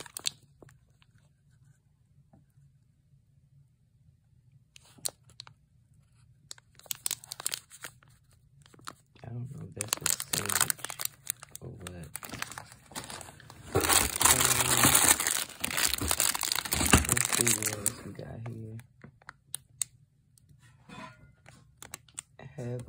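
Plastic snack packaging for crackers from an Asian snack haul crinkles and tears in bursts, with the busiest rustling in the middle stretch, close and fairly loud over a low steady hum; no talk is heard.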